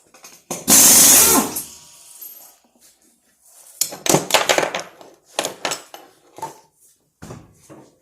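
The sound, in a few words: power tool removing a Jeep XJ wheel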